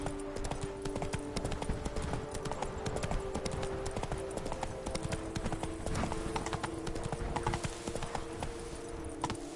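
Roach the horse gallops in a video game, hooves clip-clopping in a fast, steady rhythm that runs unbroken and close throughout, over a constant tonal hum of background music.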